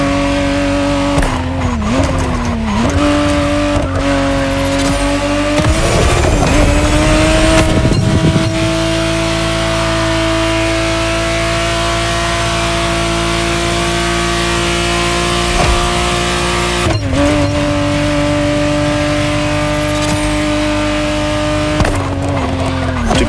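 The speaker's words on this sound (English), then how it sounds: "the exact model Motorfest has put in your hands is the 1991 re-engineered version of the Testarossa, introduced as the 512 TR" Ferrari 512 TR Testarossa from 1991 driven in The Crew Motorfest racing game, loud engine revving and shifting through gears with rising and falling pitch, occasional tyre squeal, close and continuous.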